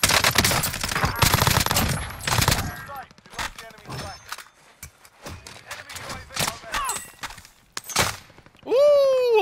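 Gunfire in the Warzone battle royale game, with rapid bursts crowding the first seconds and then scattered separate shots, heard among voices talking and a rising tone near the end.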